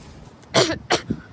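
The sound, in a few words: cough from behind a bush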